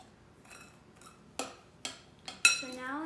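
Moon sand being mixed in a bowl with a utensil, producing a few faint scrapes followed by sharper clinks and taps against the bowl, close and otherwise quiet.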